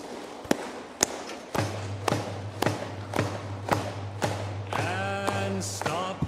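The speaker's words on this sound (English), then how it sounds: "You clap, but you have this empty space on the inside, so it would sound like this." Cupped hands clap in a steady, evenly spaced rhythm, each hollow pop giving a low, dull doom close up, with a low hum and some voices in the background.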